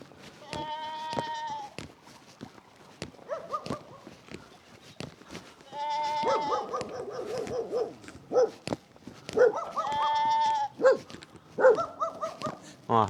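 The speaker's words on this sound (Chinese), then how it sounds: "还有山羊在这里叫" Goats in a hidden mountain-valley village in Hunan bleat in long quavering calls, with several loud bouts separated by quieter gaps and a few short sharp animal calls between them.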